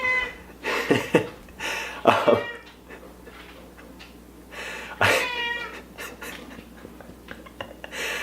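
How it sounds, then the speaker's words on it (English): A 20-year-old cat meows several times close by, a few drawn-out plaintive calls with quiet pauses between them. "it's my friend's cat"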